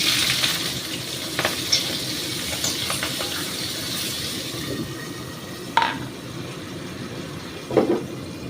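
Steamed peas and potatoes fry in Purulia oil in a pan, a soft steady sizzle with occasional sharp clinks and scrapes of utensils against the pan.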